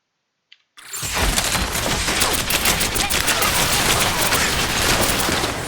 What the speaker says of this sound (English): You just play here, you throw the bomb, everybody dies